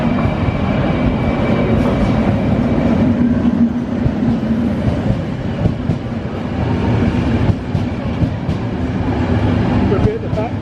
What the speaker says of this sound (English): Here comes the train we're going to catch.